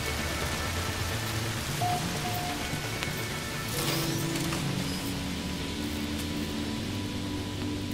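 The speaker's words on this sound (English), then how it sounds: "Intense rainfall." Intense rainfall in No Man's Sky, a dense continuous hiss of rain pouring steadily throughout with a brief louder swell partway, no talk.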